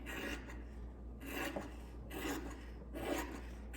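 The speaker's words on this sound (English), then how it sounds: "So you're going to cut the excess fabric off." Scissors cut excess fabric along an interfacing edge for a log cabin pillow, giving four rhythmic rasping snips close by and fairly quiet, with short pauses between them.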